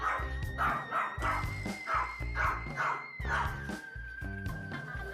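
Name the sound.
dog barking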